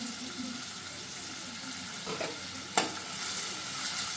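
Onion and tomato fry in a pan for a Marathi dried-prawn curry, a soft, steady sizzle with a couple of faint stirring scrapes and a brief clink.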